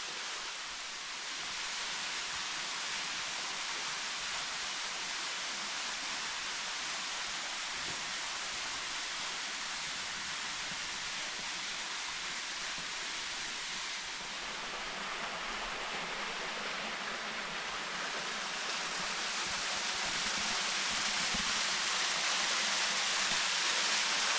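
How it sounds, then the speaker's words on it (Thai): A forest waterfall and flowing stream roar as a loud, steady broadband rush of water, constant throughout and swelling slightly toward the end, with no voices over it. "มันจะเป็นน้ำตกนะครับ"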